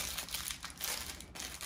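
A plastic bag crinkles softly around a packaged liquid item from a grocery delivery, with a steady rustling that keeps on throughout and no voices.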